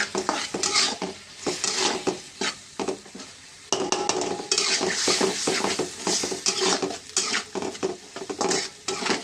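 Spices and peanut powder being sautéed in a pan, with a continuous sizzle under frequent metal spoon scrapes and clinks against the pan, close and fairly loud, no voices.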